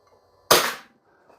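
One sharp gas blowback shot from an Umarex Glock 19 Gen 3 short-barrel airsoft pistol, loud and close, with a quick decay in quiet surroundings.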